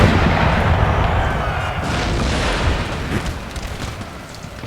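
Continuous rumbling mortar and artillery fire in the Empire Total War siege battle of Madrid, a dense roar of overlapping booms and crackle with no distinct pauses.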